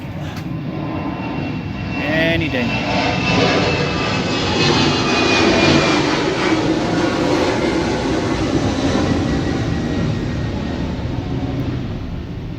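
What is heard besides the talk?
airplane flying overhead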